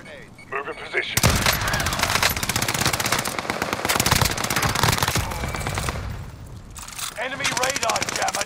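Loud, dense automatic gunfire in Call of Duty rattles almost without pause in rapid bursts, with voices faintly under the shooting.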